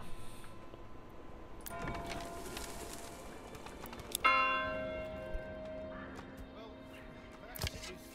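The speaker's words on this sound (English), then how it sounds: "I will get bored of pressing that bell eventually." A church bell rings out in the medieval city-builder game Manor Lords, a bright metallic strike near the middle that hangs and rings on, over a soft bed of ambient village sounds; a few fainter clanks follow.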